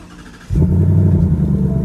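A 2021 Ford Mustang Mach 1 with a 10-speed automatic fires up after a brief quiet moment, a sudden loud, deep rumble that settles into a steady, throbbing idle close by.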